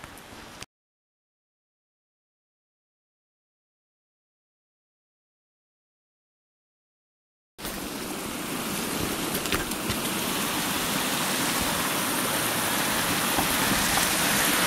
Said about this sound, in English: I think we're still above the waterfall